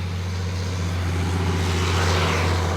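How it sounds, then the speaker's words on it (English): A tractor drives past outdoors, its steady engine drone loud and continuous throughout, with no talk over it. "I'm gonna let this tractor go by real quick."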